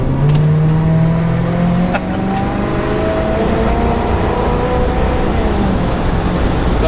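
Abandoned high-compression Pontiac luxury car engine idling loudly and steadily nearby, stuttering slightly with a rough pinging knock, continuous and without talking.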